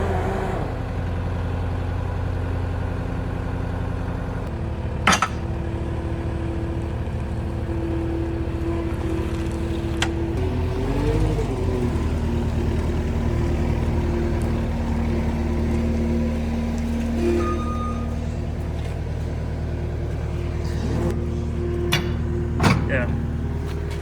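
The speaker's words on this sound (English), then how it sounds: "Let's see how she drives." A damaged Lamborghini Huracan Evo with a cracked radiator drives with a steady, droning engine note that holds throughout, broken by a few sharp clicks and knocks, while a voice talks over it.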